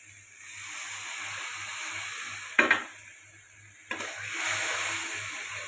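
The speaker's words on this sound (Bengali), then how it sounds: "মশলাটা কষানো হবে" Steady sizzling of a salt and turmeric spice paste sautéing in a pan for a fish curry, with two brief scraping stirs and a low rhythmic hum underneath.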